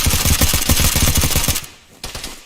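Rapid bursts of Jackal sniper gunfire in a Halo Roblox combat game, a dense loud volley of shots lasting over a second, then a short lull and a fainter shot.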